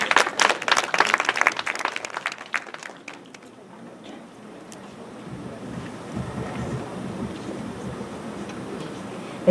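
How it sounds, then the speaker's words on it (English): Audience applause at a Japanese-Philippine conference on restoring Cebu and Bohol, welcoming a professor to the stage: a loud burst of dense clapping for about three seconds, then fading into a low, steady murmur of room noise. "A round of applause, please."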